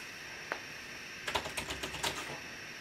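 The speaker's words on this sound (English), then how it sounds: "can also use keyboard to type." Keys clack on a USB keyboard plugged into an Android tablet: one isolated tap, then a quick burst of about half a dozen keystrokes, close and fairly quiet.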